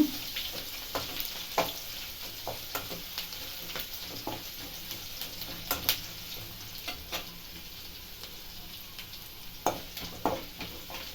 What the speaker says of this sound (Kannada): ಸ್ವಲ್ಪ ಫ್ರೈ ಮಾಡಬೇಕು